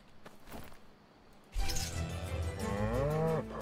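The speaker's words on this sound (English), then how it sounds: "Let's see if we can get our beautiful cow, Rust Bucket, here." A cow on a farm stockyard moos once, loud and close, a long drawn-out bellow that follows a stretch of quieter background noise.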